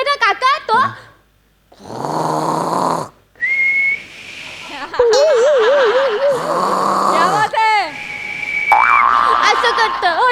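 A person imitates a tiger with exaggerated snoring noises on a Marathi comedy stage, loud snorts and whistling, wobbling tones repeated over about ten seconds, with brief pauses between bursts.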